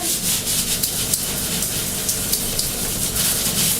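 A sponge loaded with cleaning powder scrubs tape residue off a window pane, giving a steady, close, rasping rub that repeats in quick back-and-forth strokes with a wet, gritty texture and no talking.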